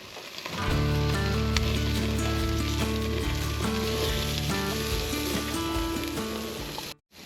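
Burgers and onions fry on a hot pan in an overland truck camp kitchen, a loud, steady, close sizzle running almost unbroken before cutting off near the end.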